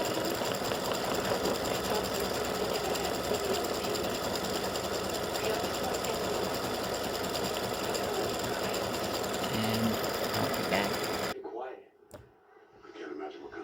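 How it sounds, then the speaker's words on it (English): Embroidery sewing machine satin stitching around the base of a beer mug earring, a steady, loud, fast mechanical chatter that runs continuously and then stops near the end, leaving quieter handling noise. "it's getting ready to do the satin stitching around the outside part of the base"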